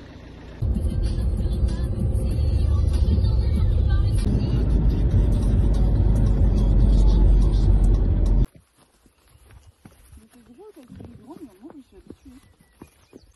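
A car engine drones steadily from inside the vehicle for several seconds, then cuts off, leaving quiet with a voice speaking faintly.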